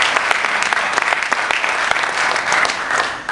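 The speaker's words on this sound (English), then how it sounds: "Yes, you can applaud that." Steady audience applause fills a political meeting hall, a dense, continuous patter of many hands clapping close by, with no talk over it.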